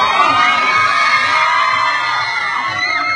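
A crowd at a fan event cheers loudly and steadily, with high-pitched excited voices shouting and whooping throughout.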